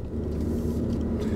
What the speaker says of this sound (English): So I'm driving around a little bit here in this nice neighborhood